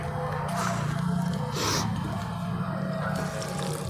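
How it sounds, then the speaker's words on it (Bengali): Water is poured into the soil of a potted rose plant, a continuous close splashing and trickling with a brief stronger gush midway. "রাখার পর খুব ভালো করে এতে জল দিন।"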